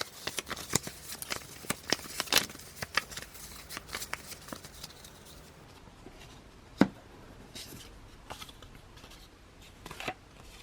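A deck of cards is shuffled several times in quick riffling bursts, followed by quieter handling and an isolated sharp tap, with no talking.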